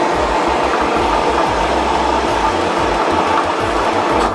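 A washing machine starts a 15-minute, 30-degree program for dyeing clothes, giving a loud, steady whirring wash with low rhythmic thumps throughout and no talking.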